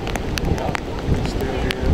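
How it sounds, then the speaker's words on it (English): Gusty wind and rain from Hurricane Irene on the beach at Long Beach, New York, a steady broadband roar buffeting the microphone with brief louder gusts. "It's a little windy and rainy."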